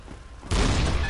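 A cannon fires in a video game, one sudden loud blast that starts abruptly halfway through and holds as a broad roar after a quieter lead-in.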